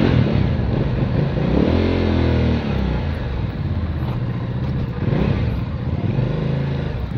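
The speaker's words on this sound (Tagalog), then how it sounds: "napaka-macho ng tunog oh. V-twin ba naman yan EP oh." A BENDA Napoleonbob 450 V-twin cruiser motorcycle rumbles during a test ride, its engine loud and close, with a deep throbbing note that rises and falls through revs and gear changes.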